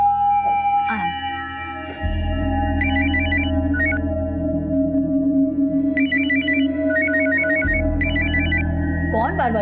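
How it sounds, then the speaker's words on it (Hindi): A home phone rings repeatedly with a bright electronic tone pattern over a steady low hum, voices speaking during the rings. "कौन बार बार फोन कर रहा है?"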